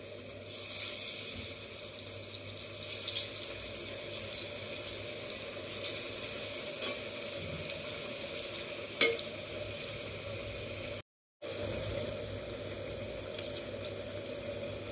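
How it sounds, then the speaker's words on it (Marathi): Aluwadi frying in hot oil over a medium flame, a steady close sizzling hiss running throughout, with a few faint clinks and a brief drop to silence partway through. "मीडियम फ्लेमवर आपण वड्या तळून घेऊ."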